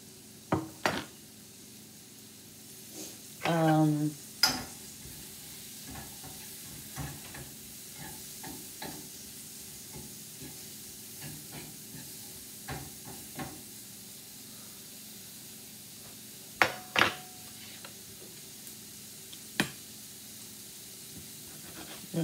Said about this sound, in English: I'm going to put the onions and the garlic in. Let that saute a little bit.